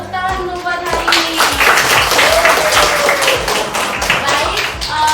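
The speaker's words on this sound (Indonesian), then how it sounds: "tepuk tangan untuk buat hari ini" Classroom applause from a group of students during a lesson, a steady dense patter of many hands clapping for about five seconds with a teacher's voice over it.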